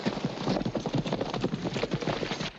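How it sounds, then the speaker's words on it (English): Horses turned loose clatter away with a rapid, busy run of clip-clopping hooves, close and fairly loud, the beats overlapping quickly for a couple of seconds before cutting off, with no talking over it. "Look, Miss Mary, they turned the horses loose."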